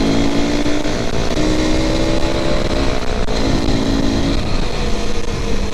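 An Aprilia SX 125 engine idles smoothly and steadily, a soft, even hum close by with no breaks or revving.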